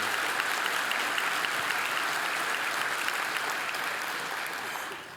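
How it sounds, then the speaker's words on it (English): An audience at an economic development event applauds with dense, even clapping that keeps up steadily and then tapers slightly toward the end, with no talking over it. "Let's give them all a round of applause."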